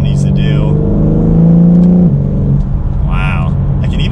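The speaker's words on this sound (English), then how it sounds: "I can even just hear the turbo slightly" A 2021 BMW M4 Competition coupe with its turbocharged engine and ZF eight-speed gearbox under light throttle while driving, a smooth engine drone rising then settling, with faint turbo whir and someone talking over it.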